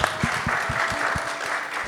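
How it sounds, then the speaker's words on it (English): An audience gives a round of applause for a host at a live jazz podcast event, a dense, steady clapping wash with a few sharper individual claps standing out, lasting under two seconds. "Let's have a nice round of applause for Caroline"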